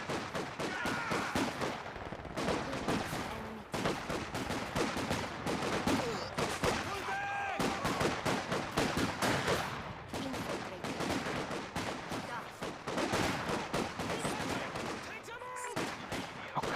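Sniper and machine gun fire crackles through a Company of Heroes 2 battle, with dense, rapid bursts and repeated sharp shots that pile up almost without pause, loud and close, over faint background voices.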